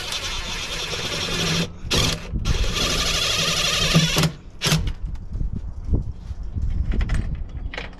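Power drill driving regular self-tapping screws into a heavy lithium battery mount on a Club Car Precedent golf cart, close and loud, with bursts of whirring broken by short pauses.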